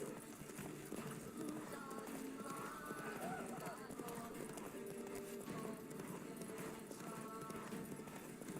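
Geralt's horse Roach trotting in The Witcher 3: Wild Hunt, a rhythmic clip-clop of hooves that continues throughout beneath game ambience and background sounds.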